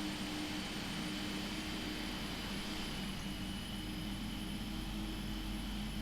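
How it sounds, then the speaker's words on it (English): A simulated Boeing 777-300ER jet engine spools up during startup on the ground in Flight Simulator X, a steady broadband roar with a constant high whine, even and unbroken throughout at a moderate, muffled level. "Especially the these 777 engine sounds are so nice."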